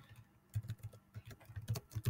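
Quick, irregular clicking of keys on a computer keyboard, close and moderately loud, a short burst of typing with no voices.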